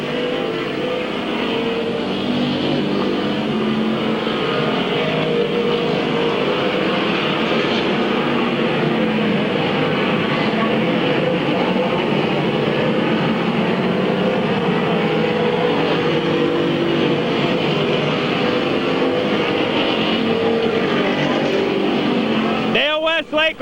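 Race cars circle Midvale Speedway at a 1996 fall classic, a continuous loud engine drone with a thick, throaty roar that holds steady for over twenty seconds, with commentary running over it.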